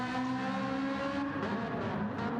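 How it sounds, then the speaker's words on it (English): Ferrari race car engine in a sim racing game lapping the Red Bull Ring, a steady high-pitched drone held at sustained revs for the whole stretch, loud and close with no talk over it. "who doesn't like the sound of listening to a Ferrari"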